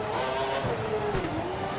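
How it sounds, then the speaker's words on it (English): A 2012 Chinese Grand Prix race car in a video game at full revs, a sustained high engine whine with a slowly shifting pitch that rises and dips slightly, loud and steady with faint tyre noise beneath. "We think the car behind is running on full revs."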